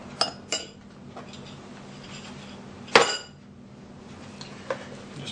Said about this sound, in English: Just mix this in really good.